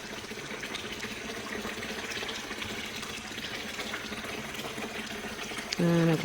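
Water runs steadily into an Intex 15-foot above-ground pool, a continuous broadband rush of filling water held at an even level throughout, with a brief louder, tonal burst near the end.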